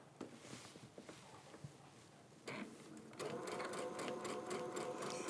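Sewing machine stitching steadily while a quilt is guided under the needle, with rapid regular clatter starting after a few faint taps and handling sounds.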